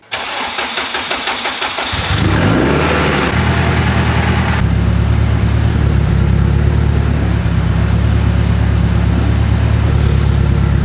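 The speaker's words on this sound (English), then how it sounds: "I'm gonna fire up the car and throw a little bit of air into the hose while it's running" A Subaru STI is fired up: a brief crank catches into a loud rev, then the engine settles into a steady, throbbing idle with a deep exhaust burble close by.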